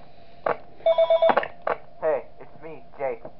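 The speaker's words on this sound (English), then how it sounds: "here's the phone call from my house phone." A house phone rings in Five Nights At Smash Bros 2, a short burst of electronic trilling followed by broken warbling tones that may be a voice, mixed with clicks and a low hum.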